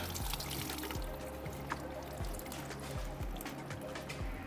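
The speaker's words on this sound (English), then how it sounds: "I'm going to release the coolant and try to not get too wet" Coolant pours and trickles steadily from a BMW F80 M3 engine during a turbo install, a continuous wet stream over a low garage hum with no talk.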